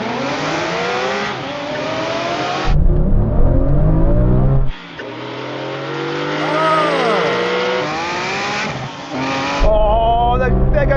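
Porsche 911 GT3 RS cars of several generations, 996, 997, 991 and 992, accelerate hard in a drag race, engines rising and shifting in loud bursts with a brief tire squeal, interrupted by short gaps as the action cuts.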